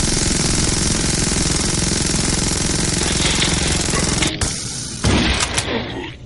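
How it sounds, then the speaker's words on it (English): A minigun in the zombie shooter game Zombie Arena fires a loud, dense, continuous roar that runs unbroken for about four seconds, cuts out abruptly, then returns in a shorter, choppier burst before fading. "Minigun."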